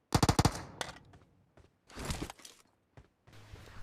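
Gunfire in PUBG Mobile: a rapid burst of four or five sharp shots at the start, followed by scattered single shots and clattering bursts, fairly quiet overall with brief gaps between.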